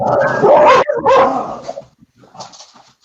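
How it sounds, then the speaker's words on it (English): Dogs bark loudly and close by in two heavy bursts, followed by quieter yips and whimpers trailing off. "Dogs."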